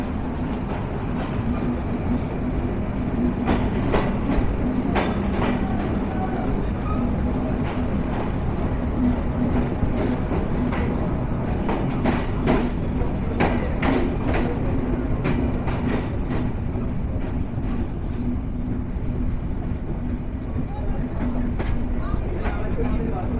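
The Padma Express passenger train runs on rails, a loud continuous rumble with rattling wagon clatter and intermittent clicks, steady for the whole stretch.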